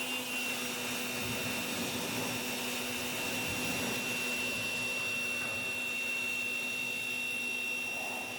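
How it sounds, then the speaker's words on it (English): An electric power washer sprays down a motorcycle subframe during a suspension rebuild, a steady loud whine and rushing hiss running unbroken throughout with no talk. "then I went after it with the power washer"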